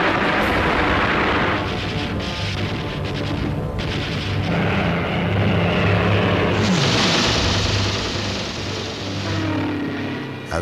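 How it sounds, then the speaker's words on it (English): WWII Spitfire and Hurricane propeller fighters in a dogfight over London against German raiders, a dense continuous roar of droning engines with rising and falling pitch, distant booms and gunfire mixed into the loud wash. "The sky was full of dogfighting aircraft"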